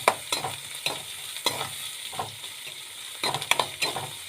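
Poha with finely chopped carrot being sautéed in a pan, a rhythmic series of spatula scrapes and stirs over a light sizzle, close and alone.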